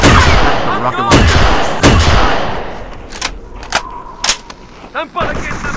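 Rocket launcher fire and explosions from the Halo video game, loud sharp blasts repeating over a dense roar of battle, with further bangs and impacts trailing off toward the end.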